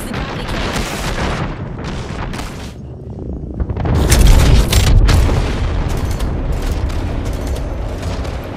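A series of heavy airstrike explosions in the video game Apex Legends booms in quick succession, deep rumbling blasts piling on each other, loud and close, with a brief lull before a bigger burst.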